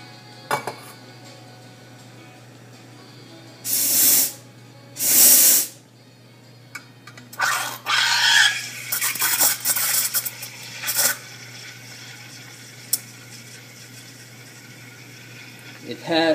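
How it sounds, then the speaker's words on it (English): A Bellman CX-25 espresso machine's steam wand hisses as it steams milk, with several loud bursts of steam and spluttering between quieter stretches, plus some clinking of metal. "we're gonna try to steam our milk."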